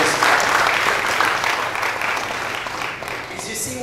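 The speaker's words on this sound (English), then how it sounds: "Let's give them a round of applause." Applause from an audience honoring graduates of a prison pre-release program, a steady wash of clapping that stays fairly loud and even, easing slightly toward the end.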